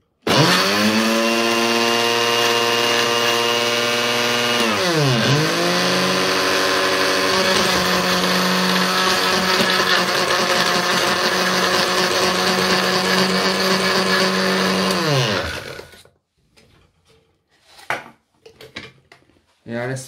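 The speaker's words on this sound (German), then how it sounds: "Der Mixer ist mächtig laut." A loud blender whirs at high speed for about fifteen seconds, its pitch dipping briefly as the load shifts, then stops, leaving a few clatters and some talk.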